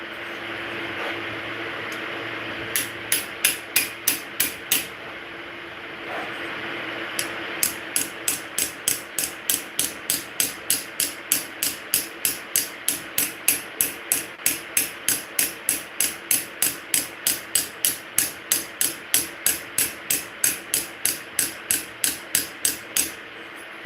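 A hammer with a tungsten carbide ball strikes a knife blade to straighten it. Sharp metallic taps come in a long, steady run of several dozen evenly spaced hits after a few early strikes, close and clear against a quiet background.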